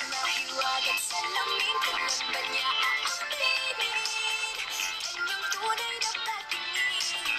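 A vivo Y28 budget smartphone plays music at high volume through its dual speakers, a steady, bright, fairly loud stream of melody and tones heard up close with no talking.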